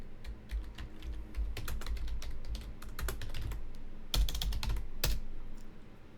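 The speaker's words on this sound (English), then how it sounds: "I'll just type it" Rapid typing on a computer keyboard, close and fairly quiet: a continuous patter of key clicks with a few heavier strokes, no talking.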